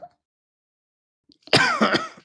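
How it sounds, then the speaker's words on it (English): A single harsh, uncomfortable cough bursts out close up after a near-silent pause, with a short rasping throat-clearing tail. "I said I like that uncomfortable cough"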